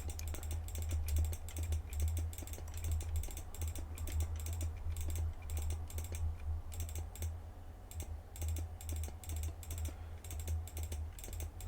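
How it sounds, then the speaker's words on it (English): Rapid computer mouse clicking while building in Minecraft, a steady stream of quick, close clicks over a low hum, with no speech. "I suppose what you can hear right now is my mouse clicking."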